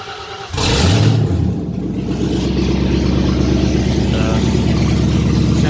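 Lincoln Mark VII LSC V8 with a Foxbody Mustang H-pipe exhaust cranks and fires, then settles into a loud, steady, rumbling idle close by, with no talking.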